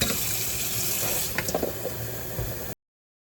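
Cold tap water runs steadily into a pot at a kitchen sink, a continuous close rush with a few brief splashes and clinks midway before cutting off abruptly.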